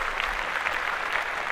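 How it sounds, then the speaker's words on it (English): A short burst of steady clapping from a small group, continuous and fairly close, with no voices over it. "So I definitely want to give her a round of applause for that."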